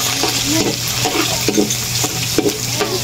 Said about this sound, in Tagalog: Gigisa na po at magluluto po ng chami.